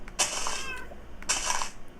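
A cat in the Minecraft video game meows twice, two clear, fairly loud calls about a second apart, each with a short trailing tail.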